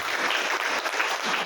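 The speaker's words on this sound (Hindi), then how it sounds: "एक बार बख्शी जी के लिए भी ताली बजा दो।" Dense, steady clapping from a crowd at a political welcome ceremony, cheering Bakshi ji in a sustained burst close by, with no talk over it.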